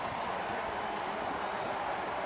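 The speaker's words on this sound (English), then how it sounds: "If you can hear the crowd noise here," Steady crowd roar fills a Cincinnati football stadium during the home opener against Jacksonville, a dense, even wash of distant voices and cheering that runs unbroken throughout.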